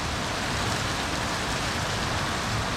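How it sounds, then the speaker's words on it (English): Heavy rain pouring down outside, a dense, steady broadband hiss that stays loud and unbroken throughout, with no talk. "I'm not sure if you can hear me because it's bucketing outside."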